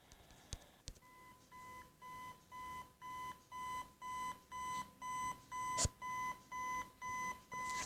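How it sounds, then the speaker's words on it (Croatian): An alarm clock in the horror video game FNAF 4 rings in a steady series of about a dozen evenly spaced electronic beeps, clear and prominent, with no voices over it. "Alarm, budi se, sine."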